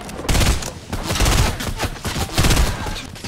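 Rapid bursts of close gunfire in Fortnite, shotgun blasts among a dense fusillade of shots, loud and continuous throughout with no talking.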